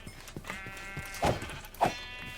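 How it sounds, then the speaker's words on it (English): Minecraft sheep bleat in a 1.12.2 Fossils and Archeology modded world, two distinct bleats close together over faint game ambience and soft footsteps. "There's some sheep"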